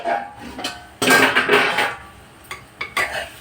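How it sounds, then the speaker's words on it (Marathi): A metal lid is lifted off a pan of egg bhurji on the stove with a sudden clatter and a few lighter knocks and scrapes of cookware, close and brief. "आपण झाकण उघडून बघणार आहोत"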